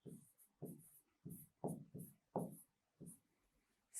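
Chalk or marker strokes scratch across a classroom board in a series of short, separate bursts while answers about the layers of the Earth are written, close and moderately quiet.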